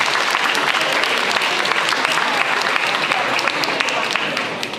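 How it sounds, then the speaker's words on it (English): An audience at a high school signing day ceremony breaks into sustained, dense applause, loud and steady throughout before starting to taper off at the end. "Let's give one more round of applause for Caitlyn Wallace heading to Trevecca."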